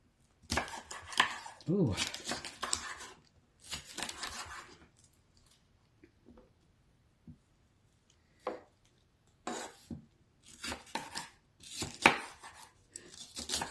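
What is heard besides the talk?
cutting up vegetables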